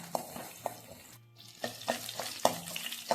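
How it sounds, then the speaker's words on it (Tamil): Garlic sautés in coconut oil with a soft, steady sizzle close by, broken by a few sharp clinks and scrapes of a utensil stirring the pan. No one speaks. "பூண்டு லேசாக வதங்கட்டும்."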